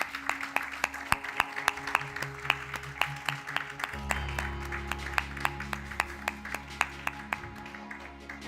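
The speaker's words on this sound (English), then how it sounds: "Let's give them a round of applause" Scattered, fairly quiet claps ring out in a hall at the SAICE presidential inauguration ceremony, honouring a former institution president and his wife, with a low steady hum underneath and no voices.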